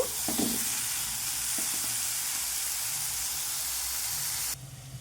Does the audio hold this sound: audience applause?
no